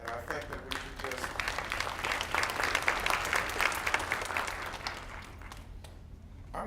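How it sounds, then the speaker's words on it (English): An audience at a 2019 MLK celebration applauds student essay writers, a steady wash of clapping that swells in the middle and tapers toward the end, with some voices mixed in. "I'm not sure they understood that applause"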